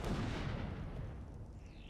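A cannon fires in Ark Survival Evolved, heard as a heavy, close blast that decays into a long rumbling wash of noise, with a faint tone rising near the end.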